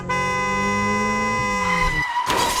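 A toy car from a LEGO Indiana Jones minifigure set arrives with a loud, continuous engine-like whine that bends downward into a short skidding screech at the end, with no talk over it.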